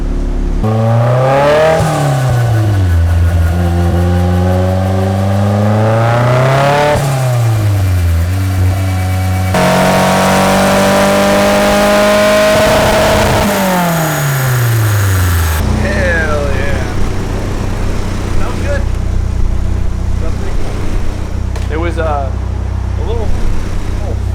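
A turbocharged Nissan S14 engine revs repeatedly on a dyno through rising and falling pulls, loud and close, with a strained whine, settling into a steady rumble with voices underneath.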